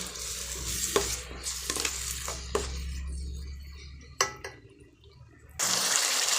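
Onion and tomato paste sautéing in oil in a pan for a bottle gourd and mutton kofta curry, with a soft continuous sizzle and occasional spoon scrapes and taps while stirring, no voices.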